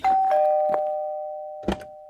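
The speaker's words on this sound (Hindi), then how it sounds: "घर के दरवाजे की घंटी बजी।" A doorbell rings with a single clear electronic tone that lingers and slowly fades, punctuated by a few soft clicks.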